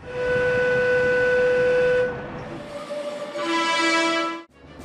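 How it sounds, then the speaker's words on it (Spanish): A Metro Bilbao train horn blares a loud, sustained tone that shifts to a different pitch partway through, then cuts off abruptly. "Todas las unidades poseen un silbato y una bocina"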